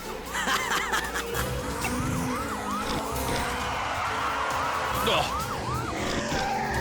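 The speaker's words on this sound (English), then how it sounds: "Watch me hit the brakes, bro." A cartoon car brakes hard, its tires squealing in repeated rising and falling screeches over a loud engine rumble, with voices talking over the skid.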